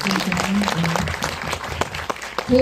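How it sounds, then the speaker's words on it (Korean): An audience at an indie film talk event applauds in a brief burst of clapping, with voices audible beneath and over it. "박수 한번 부탁드리겠습니다."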